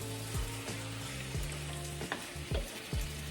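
Onions sizzling in a cast iron skillet, a steady hiss of frying with occasional scraping stirs and soft clicks of the utensil against the pan, fairly close and with no voices.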